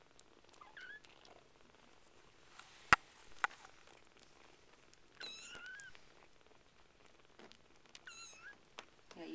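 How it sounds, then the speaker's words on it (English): A kitten purrs steadily up close while other kittens mew intermittently in the background, with a sharp click partway through. "one of them is purring really loud"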